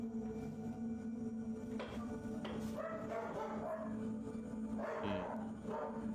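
Dogs inside a house bark and yip in short bursts after loud knocking at the front door, a few barks over a steady background hum, moderately distant.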